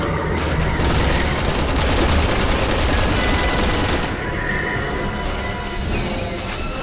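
Rifle gunfire in the video game Resident Evil 6: a loud, dense stream of rapid automatic shots rattling continuously for several seconds, then easing slightly, with no clear talk over it.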